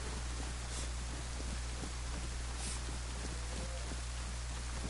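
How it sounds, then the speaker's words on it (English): Steady rain in the DayZ survival game on the Livonia map, a dense continuous hiss close and loud throughout, with a low droning hum beneath and no talking. "The rain definitely helps with that."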